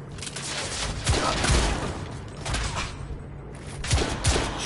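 Steady rattling gunfire in the third-person shooter The Order: 1886, with dense overlapping shots and occasional thuds forming a continuous firefight, with no talk.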